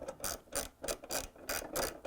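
A ratchet wrench loosens a transmission mounting bolt on a Whirlpool washer during a shaft seal replacement, giving six regular bursts of rapid clicking, close and fairly loud, with no talking.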